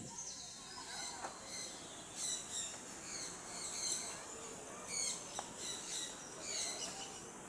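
Faint, scattered high chirps from birds at a distance, coming in short bursts over a breezy outdoor background.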